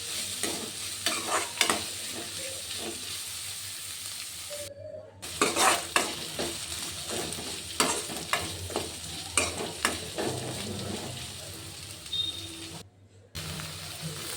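Green chilies and ginger fry in a hot pan, a steady sizzle broken by repeated scraping and clattering stirs, close and continuous, with two brief silent cuts.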